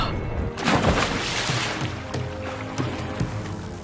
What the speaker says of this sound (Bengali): আমার নৌকাটা যে দুখণ্ড হয়ে ভেঙে জলের মধ্যে তলিয়ে গেল